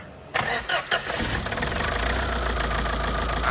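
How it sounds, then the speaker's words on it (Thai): A Thai-market car engine that misfires and shakes, cranked and catching, then revved unevenly with stumbling, knocking bursts before settling into a rough, labouring idle, loud and close with no talk. "เครื่องสั่นนะครับสองเร่งเร่งสะดุดไม่มีแรง"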